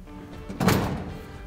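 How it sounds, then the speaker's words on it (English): A paint booth personnel door swings shut with one solid thunk about halfway through, preceded by faint handling noise and followed by a short rumbling decay. "Then we're gonna close our personnel door."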